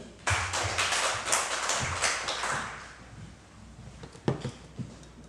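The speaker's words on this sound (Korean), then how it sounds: "박수 한번 주세요" A small church congregation at a Sunday service applauds briefly, with sharp close hand claps that start loud, thin out and fade, followed by a few scattered claps near the end.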